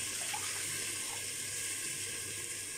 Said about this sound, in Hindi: चावलों के हिसाब से मैं इसमें 1 लीटर पानी शामिल कर रही हूँ